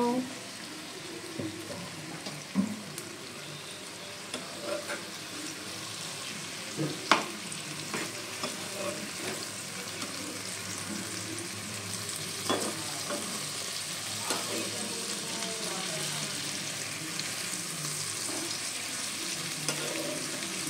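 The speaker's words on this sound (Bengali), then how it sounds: "তো এবার আমি এটা দিয়ে ভালো করে কষিয়ে নেব" Spice paste of ginger, cumin and onion for a small-fish curry frying steadily in a pan, a soft continuous sizzle with occasional scraping stir strokes, fairly quiet.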